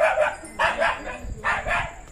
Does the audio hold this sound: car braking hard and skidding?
no